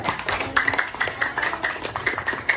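A small classroom group claps for group 1 after its presentation, a brief patter of light, uneven handclaps at moderate distance.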